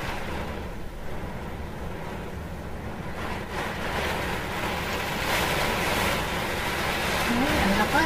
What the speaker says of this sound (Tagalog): Sulitin niyo yung hampas ng hangin eh